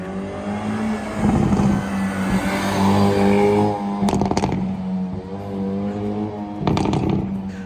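A Hyundai i30 N engine revs loudly nearby, rising and falling in pitch with a couple of sharp throttle blips, no talking.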